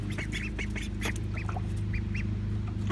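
Ducklings splashing in a bath made from an old refrigerator drawer give repeated high quacks and peeps, close and busy, over a steady low hum.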